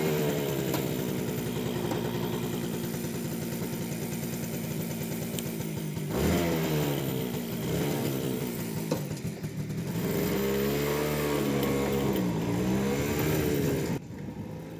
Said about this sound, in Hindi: इंजन को पहले स्टार्ट करेंगे.